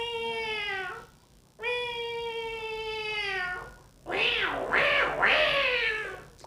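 A voice imitates a cat, giving two long, drawn-out meows and then a rising, wavering caterwaul. The sounds are close and clear, with no other talk.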